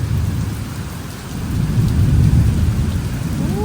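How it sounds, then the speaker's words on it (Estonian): Thunderstorm with steady heavy rain and rolling thunder during a grain-harvest season in Australia, a continuous loud wash of rainfall with a deep rumble swelling up midway and holding to the end. "lihtsalt välgutab põhimõtteliselt kogu aeg ja müristab"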